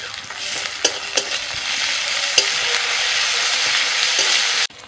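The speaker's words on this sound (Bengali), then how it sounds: "দিচ্ছি আদা রসুন কাঁচা লঙ্কা বাটা" Ginger, garlic and green chili paste fries in a pan after onions, a steady broadband sizzle with a few sharp stirring clicks and scrapes, close and continuous, cutting off abruptly near the end.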